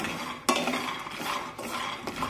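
Peanuts being dry-roasted over a medium flame, turned with a spatula in a pan, giving scraping, rattling stirring clatter with a few sharper knocks and no talk.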